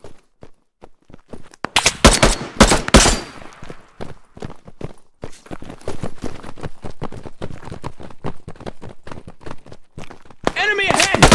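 Gunfire in the video game PMC comes in loud, rapid bursts and single cracking shots, close and punchy, mixed with shouted voices in the background and a steady run of rhythmic firing throughout.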